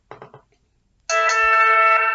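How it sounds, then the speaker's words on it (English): A phone's text-message alert tone rings out loud and clear for about a second with a sustained, bright chiming melody, preceded by a short burst of indistinct voice and a moment of silence. "sorry, that was my phone. Oh, it texted me."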